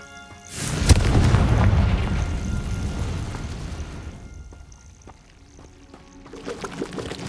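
A Confringo fire spell from the Hogwarts Legacy video game lands with a loud, deep explosive boom that rolls into a long rumbling, crackling decay over several seconds, then fades out.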